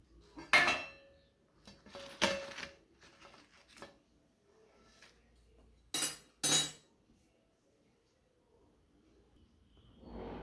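Fried pakora slices being lifted out of hot oil onto a plate, giving a few sharp clinks and scrapes of utensil against the plate in separate bursts, with quiet gaps between them.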